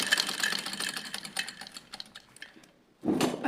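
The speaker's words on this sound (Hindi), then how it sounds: "देखिए कैसे दौड़ रही है मशीन।" A sewing machine runs smoothly and fast just after oiling at the neck, its dense whirring steady for about three seconds, then cutting out briefly before starting up again close by.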